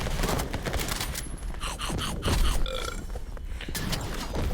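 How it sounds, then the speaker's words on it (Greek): A burp sound effect from a 5v5 video game, heard among busy game audio with clicks, bursts and a few throaty grunting tones, loud and close throughout. "Ποιος ρεύτηκε μόλι?"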